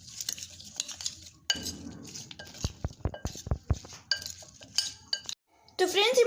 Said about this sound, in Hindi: हाफ टी स्पून लाल मिर्च पाउडर डालेंगे, 1 टेबल स्पून हरी धनिया की चटनी डालेंगे और इसको खूब अच्छे से मिक्स कर लेंगे